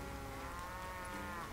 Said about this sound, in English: Lots of cows.